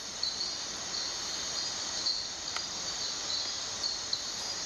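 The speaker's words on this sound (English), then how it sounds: "there's our little dink frog" A dink frog calls at night in a rainforest: short, faint, high tinkling notes repeat now and then over a steady, dense insect chorus.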